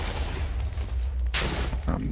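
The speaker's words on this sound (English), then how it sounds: "Once the main TNT explosion goes off" TNT blocks exploding in Minecraft, a sharp broadband blast that starts partway through, with a second smaller burst near the end, both loud over steady game background noise.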